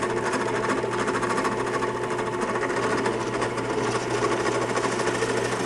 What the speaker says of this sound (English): with my drill press going